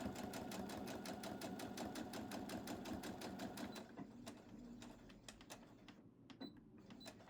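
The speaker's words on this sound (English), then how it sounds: "And then again, I back stitch over that open seam." Sewing machine running fast and steady while back stitching over an open fabric seam, then slowing to short bursts of stitching with pauses, close up and alone.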